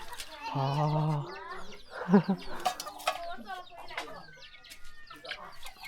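Chickens and ducks cluck and call in a rural village setting, with a loud nearby clucking run followed by scattered calls and squawks, while distant voices and faint background activity continue.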